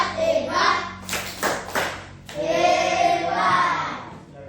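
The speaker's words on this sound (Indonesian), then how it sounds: "Tepuk hebat." Children in a classroom clap together in a rhythmic chant, a few sharp synchronized claps followed by chanted voices, then a second burst of group clapping and chanting.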